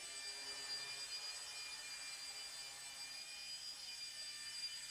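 Esky 150 EC small fixed-pitch RC helicopter climbing indoors at full power, giving a steady high-pitched motor and rotor whine that holds loud and even throughout, with no talking.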